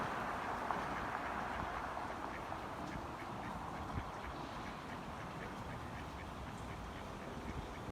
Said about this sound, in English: Hi, little ducks.